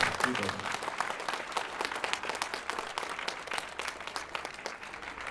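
A concert audience at a memorial concert for a singer applauds the organisers, with individual hand claps clearly audible in a lively, moderately loud spatter that fades a little toward the end, and some voices mixed in.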